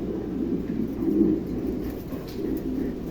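A pair of American breed pigeons cooing steadily in low, throaty murmurs, close and continuous with no voices over them.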